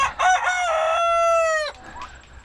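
A farmyard rooster crows once, close and loud, a sustained harmonic call of about a second and a half that breaks off abruptly, followed by quiet background.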